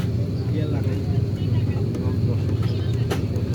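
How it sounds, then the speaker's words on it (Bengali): An airplane lands at Dhaka Airport with a loud, continuous low roar that holds steady throughout, with muffled voices faintly mixed in. "এই বিমানটা অবতরণ করছে আর কি"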